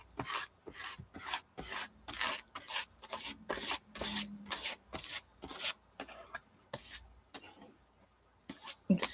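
Rhythmic scraping as paint is spread across a gesso-coated composition book page, about fifteen quick, close strokes followed by a few sparser ones near the end, with no voice.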